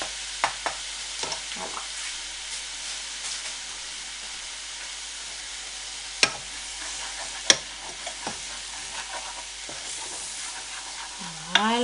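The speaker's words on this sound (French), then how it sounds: "je vais casser un œuf dedans et touiller pour faire un genre de riz cantonais" Egg stirred into rice frying in a pan for a Cantonese-style fried rice, with steady close sizzling and scraping utensil strokes, no talking.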